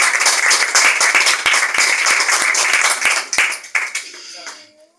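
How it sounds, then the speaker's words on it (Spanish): A church congregation claps hard at a worship service, loud, close, sharp individual claps in a fast dense run that thins out and stops after about four seconds, with voices mixed in. "Un fuerte aplauso para Cristo."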